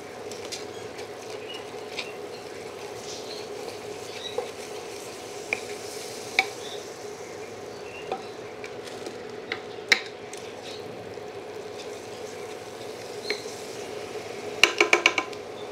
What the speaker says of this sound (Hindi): अब सबको अच्छी तरह मिलाते